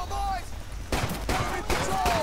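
Gunfire in a Medal of Honor video game comes as a few sharp bursts of shots, medium-loud, with voices and background game sound around them.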